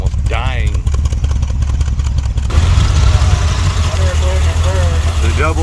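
A 1970s Dodge street machine van engine idles very low and rough, a steady deep rumble just short of stalling, with people talking over it and the motor note rising a little partway through.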